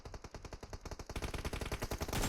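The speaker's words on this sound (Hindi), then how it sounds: "नंबर 1 भाई के पास फायरिंग हो रही थी," Rapid automatic gunfire in a mobile shooter game played on an iPhone 8 Plus, a dense rattling stream of shots that grows louder and busier toward the end, with no talking.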